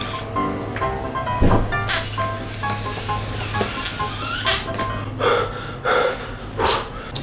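Breath blown into a party balloon by mouth, with repeated bursts of forceful puffing and hissing air, some sharp gasps between breaths, close and fairly loud, with no speech.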